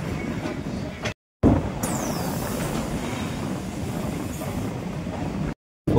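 The Guntur-Aurangabad Express pulls into Selu railway station with a steady, fairly loud rumble and rattle of the cars that runs through the whole stretch, broken by two short silent gaps.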